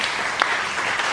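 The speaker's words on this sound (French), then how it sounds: "Applaudissez pour eux." Congregation applauding during a French-language sermon in a church service, a dense steady wash of many hands clapping at close range for about a second.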